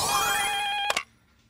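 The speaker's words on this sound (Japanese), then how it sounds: "社長、セレブナイト様という方からお電話が入っております。" An office telephone rings with a steady electronic trill for an incoming call, fairly loud and alone, then breaks off abruptly after a short burst.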